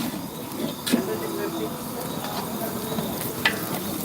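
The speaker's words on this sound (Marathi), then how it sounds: "आता त्याच्यामध्ये ती तेलामध्ये फ्राय करू राहिले" Green chillies frying in hot oil in a pan, with a steady sizzle and occasional stirring clinks while a person talks over it.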